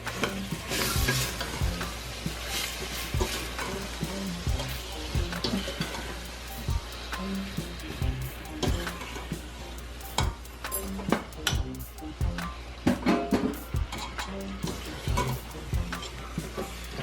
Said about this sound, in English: Thyme in there. Stir it around a bit.